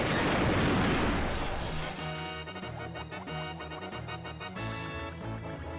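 A loud, booming explosion from the video game Donkey Kong 64 that is a broad roaring burst which fades after about two seconds into a steady rumble with musical tones, with no talk.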